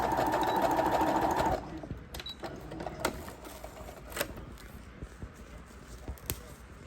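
A sewing machine back stitches ribbon onto a sock in a quick, buzzing run that stops after a second and a half, followed by soft clicks and handling noises at low level.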